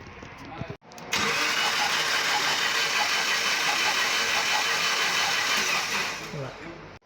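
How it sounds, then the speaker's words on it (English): Cranking engine of a 2010 Subaru Liberty with the fuel pump fuse pulled, a loud continuous whirring starter churn lasting about six seconds without catching, then cutting off, with a brief click just before it begins. "so now I'm going to crank the car to kind of see if I can"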